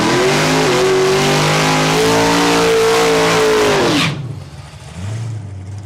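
Loud drag racing engines of an 08 Corvette and a 98 Pontiac Trans Am roar and rev hard at Saskatchewan International Raceway, a steady high-pitched howl that cuts off abruptly, leaving quieter distant rumble.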